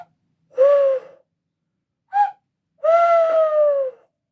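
Owl-shaped whistles give hooting calls: a short hoot, a brief higher chirp, then a long wavering hoot, loud and close with silence between.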